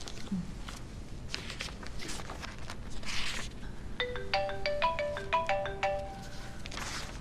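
A melodic phone ringtone chimes in a quick repeating pattern partway through, over soft footsteps and faint room movement.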